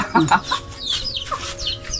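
A hen clucks in short, choppy bursts nearby, with other faint bird calls and light background noise around it.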